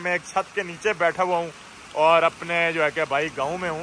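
Hail and heavy rain drum steadily on a roof in a village near Murree, a constant patter beneath someone talking continuously close by.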